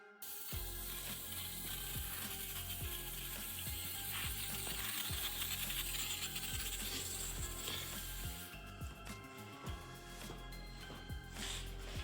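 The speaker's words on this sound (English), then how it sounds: "we're doing the head studs, gonna get them all down, torque to spec" A ratchet tightening engine head studs on a swapped Barra engine, steady repeated clicking pawl strokes in a rhythmic series, close and clear with mechanical rubbing and no talking.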